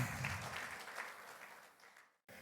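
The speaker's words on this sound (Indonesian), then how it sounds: "Berikan tepuk tangan." Congregation applauding during a Sunday church worship service, a dense, continuous patter of many hands that gradually fades and cuts off near the end.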